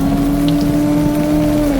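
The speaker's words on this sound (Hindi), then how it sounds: "वहां तेज आंधी तूफान और बारिश शुरू हो जाती है" Steady rain, pattering with raindrops, as a storm sound effect in a narrated Hindi horror story, an even, continuous wash under a low sustained tone, with no talk.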